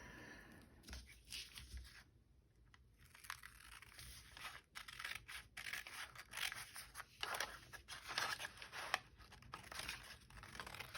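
Scissors snip through a brown paper bag, trimming off a folded edge to reduce bulk while it is turned into a journal; a close series of crisp cuts mixes with crinkling and rustling paper, with no talking.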